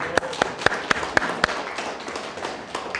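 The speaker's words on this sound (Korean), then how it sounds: "우리 정은철 의원님 박수 맞아주십시오." A short run of separate, evenly spaced hand claps for a city councillor at a Guri City Council press briefing, about six sharp claps that trail off into quiet room noise.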